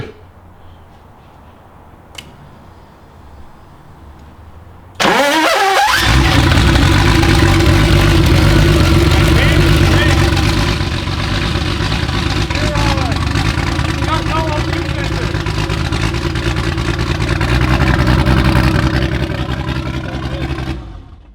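A turbocharged BMW E30 fires for its first start after a quiet moment with a small click, catching suddenly into a loud rough idle, then revving up and down with a rising roar near the end; voices talk beneath it.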